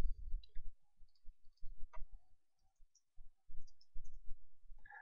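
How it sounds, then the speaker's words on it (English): Computer mouse clicks during 3D modeling work in Maya, a rapid series of soft, close clicks, many in quick pairs like double-clicks, with no talking. "to name each of these, you just have to double-click it."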